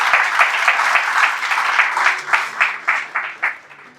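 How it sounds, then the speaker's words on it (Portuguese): A church congregation applauds at an evening service, a steady wash of clapping that turns into a few rhythmic, synchronized claps toward the end, with faint voices underneath. "Será que você pode aplaudir a vida delas?"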